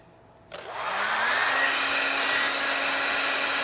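An old hair dryer switches on with a click and settles into a steady, loud whirring blow with a constant motor whine.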